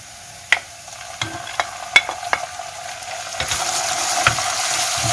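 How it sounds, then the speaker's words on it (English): Meat frying with onion in a pan for Iranian gheimeh, a steady sizzle with several sharp stirring scrapes and clacks, the frying growing louder and brighter toward the end. "And I fry it with onion."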